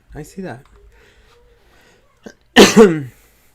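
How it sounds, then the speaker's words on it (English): A person coughs twice in quick succession near the microphone, with a short catch of breath, then a louder second burst of harsh coughing after a quiet pause. "I forgot to mute myself before I coughed."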